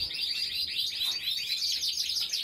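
High, thin chirping from three nestling cage birds in a nest, a dense continuous twittering that holds steady throughout at moderate level, with no talking.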